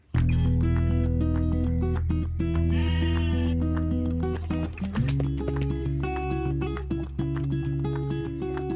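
Daisy the goat bleats before milking, a wavering bleat near the middle, over a loud, continuous tonal background that holds steady throughout.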